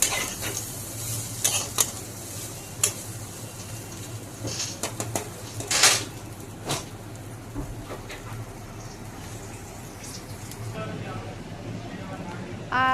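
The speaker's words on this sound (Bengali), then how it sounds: "তো দেখো আমি এখন আলু ভেজে নিচ্ছি।" Thick-cut potatoes fry in a pan for khichuri, with a soft continuous sizzle and intermittent scraping stir strokes, while birds coo faintly in the background.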